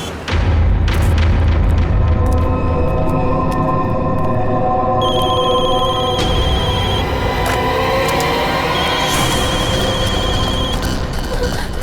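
Several telephones ring at once with overlapping bell tones that layer and persist. They sit over a loud, dense dramatic backing with a booming hit at the start.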